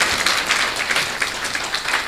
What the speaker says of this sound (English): Can we clap for Elizabeth